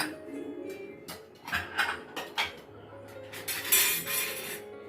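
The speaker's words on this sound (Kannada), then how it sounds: "ಕುಕ್ಕರ್ ತಣ್ಣಗಾಗಿದೆ. ಓಪನ್ ಮಾಡ್ಕೊತಿದ್ದೀನಿ." A cooled pressure cooker is opened after four whistles of raw mango for juice, giving a run of metallic clanks and clatters from the lid and pot, close and irregular, with brief quiet gaps between.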